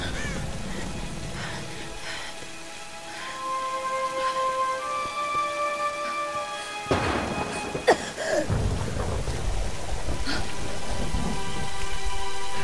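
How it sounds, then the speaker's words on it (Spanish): A thunderstorm in the game Tomb Raider Definitive Edition: steady heavy rain hisses throughout, a loud thunder crack breaks out near the middle, and sustained tonal game music plays underneath. "qué tormenta"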